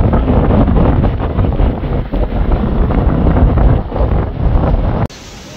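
Strong wind buffets the microphone on a hilltop, a loud, continuous roar with gusty swells throughout that cuts off abruptly near the end.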